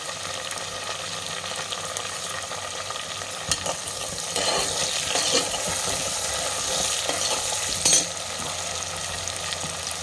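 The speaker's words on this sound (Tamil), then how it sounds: "கூடவே வரமிளகாய் சேர்த்து நல்லா வதக்கிக்கலாம்." Coriander seeds, poppy seeds, cinnamon, cloves, cardamom and dried red chilies fry in a pan with a steady crackling sizzle, and stirring bursts swell in the middle and near the end.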